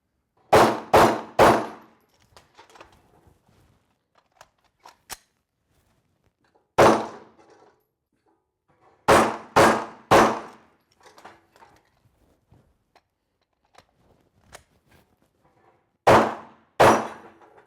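Pistol shots fired one-handed on an outdoor shooting range: sharp, loud reports in quick pairs and triplets separated by pauses, each with a short echoing tail, and faint handling noise in between.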